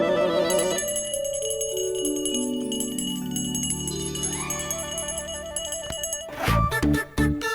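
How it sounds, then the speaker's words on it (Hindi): Bells rung during puja worship, ringing out in layered sustained tones that decay over several seconds before a burst of sharper clanging strikes near the end, loud and without speech. "ये घंटियाँ बजाकर माँ की नींद मत खराब करो।"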